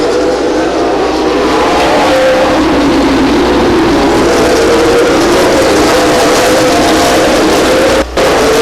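Race cars roar around the Stockton 99 Speedway oval, a loud, sustained engine drone with a rising and falling pitch as the pack passes, continuous throughout.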